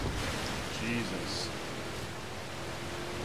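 Splashing, rushing water noise as a Jeep-style vehicle drives through deep water in the racing game Forza Horizon 3, a loud, steady broadband wash throughout.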